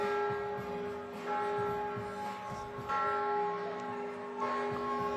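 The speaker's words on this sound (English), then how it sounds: "The bells are ringing so loudly." Church bells ring at noon beside a FIBA 3x3 U21 basketball game, loud sustained peals with steady tolling strokes and overlapping hum, dominating the scene.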